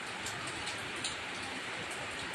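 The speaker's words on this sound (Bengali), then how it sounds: "তারপর দেখো বৃষ্টি, বড় বড় ফোঁটা, রাস্তায় জল জমে যাচ্ছে" Heavy midday rain with big drops falls on a street where water is pooling, a steady close hiss of dense patter running evenly throughout with no voices.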